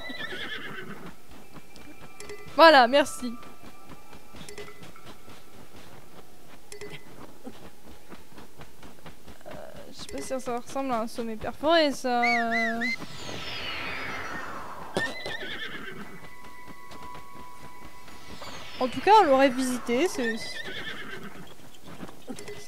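A horse in Zelda Breath of the Wild whinnies in several short bursts spread over the span, with faint hoof clip-clop and game ambience between, while a player talks in French.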